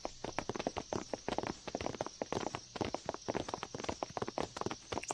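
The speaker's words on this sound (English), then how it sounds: "A lot of footstep noises." Footsteps from the video game Final Fantasy X patter in a quick, steady rhythm of crisp clip-clop steps throughout, moderately quiet and alone with no talking.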